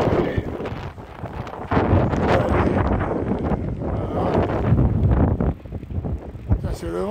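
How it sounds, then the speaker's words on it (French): Strong wind buffets the microphone while riding a bicycle, a steady roar with gusts throughout. "C'est le vent qui me pousse"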